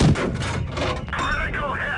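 A Panzer IV tank gun fires once in a video game, a loud close boom at the start followed by rumbling and someone talking.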